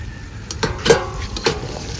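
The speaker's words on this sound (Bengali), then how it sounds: "এবার ঢাকাটা তুলে পাকা আমটা দিয়ে দেব।" A metal lid is lifted off a cooking pot of chicken before ripe mango goes in, making a few close, light clinks and clanks in quick succession.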